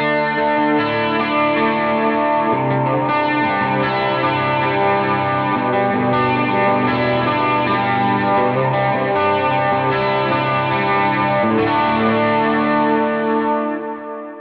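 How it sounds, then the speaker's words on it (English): Electric guitar plays a steady stream of notes with a shimmering chorus effect, loud and continuous, with no voices. "Now, if I add in the chorus, it's going to sound like this."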